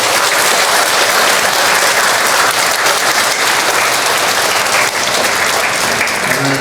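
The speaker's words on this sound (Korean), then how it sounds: "다시 한번 우리 어린 친구들과 우리 젊은 부부들에게 격려의 박수 한번 해주세요." Korean church congregation applauding young children and young couples during a revival service, a loud, dense and continuous wash of clapping filling the hall throughout, with faint murmuring underneath near the end.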